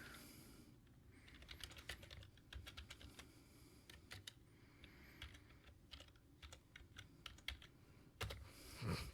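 Fingers type on a computer keyboard in quiet bursts of fast clicking keystrokes with short pauses, faint and close, with no talking.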